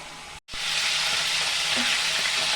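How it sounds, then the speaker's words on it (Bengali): Chicken pieces fry in hot oil in a pan, a dense steady sizzle that cuts out briefly near the start, then resumes and holds loud and even with a few faint pops. "তো চিকেনটা আমি এই পিঠ ওপিঠ ভালো করে ভেজে নিয়েছি"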